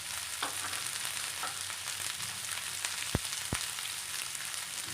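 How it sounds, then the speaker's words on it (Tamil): Onions, green chillies, garlic and curry leaves fry in oil in a pan, giving a soft, steady sizzle with a couple of sharp clicks from stirring, close and fairly quiet. "இப்போ இது கொஞ்ச நேரம் எண்ணெயில் வதங்கிட்டுங்க"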